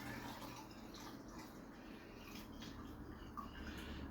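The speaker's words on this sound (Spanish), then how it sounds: "lo lleno de agua hasta el borde" Water runs into a bread mould set on a kitchen scale, filling it to the brim with a soft, steady trickle and faint drips, quiet and continuous, with no one speaking.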